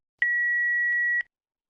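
A phone call connects on a radio talk show: a single steady electronic tone lasting about a second, clean and loud with abrupt start and stop.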